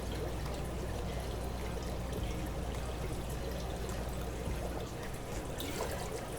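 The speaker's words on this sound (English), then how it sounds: "carefully fill the tank back up with the new remineralized water" Remineralized RO water pours steadily and continuously into a Caridina shrimp tank, a close, even splashing stream with no pauses or talk.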